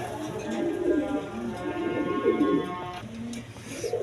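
A breeding pair of pigeons coos in a low, repeated murmur at close range, with a faint voice talking in the background.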